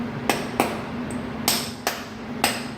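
Metal-on-metal taps on a crimp head to break its cylinder free, six sharp separate knocks with ringing decay, close and loud over a faint steady hum.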